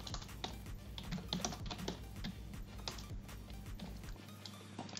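Fast, uneven clatter of a computer keyboard as code is typed, with close, crisp key taps in quick bursts and brief pauses over a quiet room hum.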